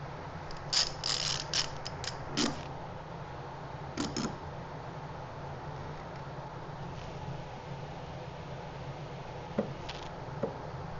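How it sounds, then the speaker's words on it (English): A clamp ratcheted tight on a wooden planter box, giving a few short bursts of quiet clicking early on and then a couple of faint isolated clicks over a steady low background hum. "let me get a clamp on there"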